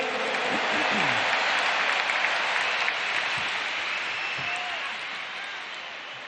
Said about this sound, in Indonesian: Tepuk tangan dulu yang meriah untuk Gus Muhaimin.